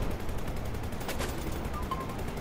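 Rapid gunfire in the shoot-'em-up video game Rogue Flight, a dense continuous stream of shots at steady loudness under game noise, with no talking.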